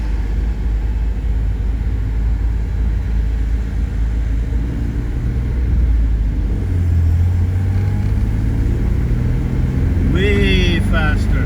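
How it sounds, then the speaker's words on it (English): Steady road traffic rumbles near Highway 1 between Vancouver and Abbotsford, a continuous dense roar of passing vehicles with low engine drone throughout and a brief higher whine near the end. "Do you see this traffic?"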